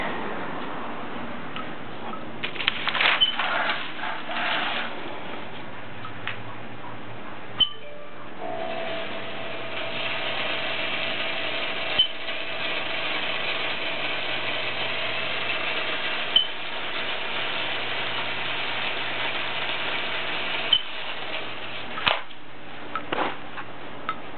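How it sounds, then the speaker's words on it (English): A Halloween cauldron creep prop runs on its motor, giving a steady mechanical whir with a faint squeak and occasional ticking clicks, continuous and close for the whole stretch. "I have a squeak that comes out of the motor I can't seem to get rid of."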